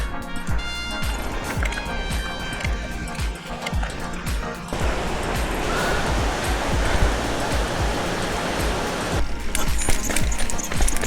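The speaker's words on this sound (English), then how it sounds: "There is a lot of amazing waterfalls here." Waterfall in Brevard, a steady broadband rushing roar of falling water, moderately loud and continuous, with some handling or wind noise early on and no clear voices.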